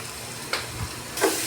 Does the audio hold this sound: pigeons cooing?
no